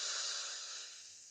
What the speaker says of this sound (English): allowing the exhale to be something you can hear, something audible